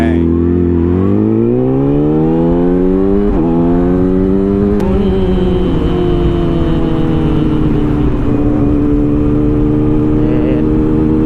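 A modified pickup truck on a rainy day revs hard up close, its loud engine note climbing in pitch over several seconds, dipping briefly, then holding a high, droning whine.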